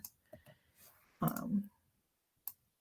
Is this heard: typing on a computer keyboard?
yes